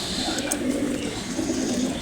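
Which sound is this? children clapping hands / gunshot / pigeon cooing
pigeon cooing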